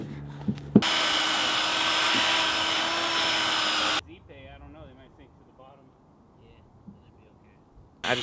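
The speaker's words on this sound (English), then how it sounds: "We've got a little Makita strip sander," A small Makita strip sander works the edges of deck boards on a curved dock deck, whirring loudly and steadily for about three seconds before cutting off, followed by quieter talk.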